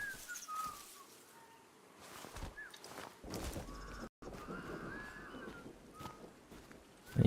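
Crows cawing in a video game, heard at a distance as a few scattered calls among ambient game sounds and faint whistling tones, with no speech.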